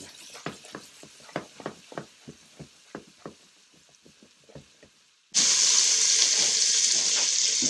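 Shallot and garlic hit hot meat drippings with a sudden loud hiss that settles into steady, close sizzling, following a run of sparse light taps and clicks.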